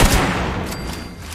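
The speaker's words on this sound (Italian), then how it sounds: "Chi è che mi sta sparando?" A rapid burst of gunfire in the video game Fallout 76 hits loud and close, then decays into a short reverberant tail.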